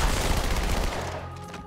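Dual-wielded guns firing in Halo 2, a loud, dense stream of rapid gunfire that rattles along steadily and then tails off near the end.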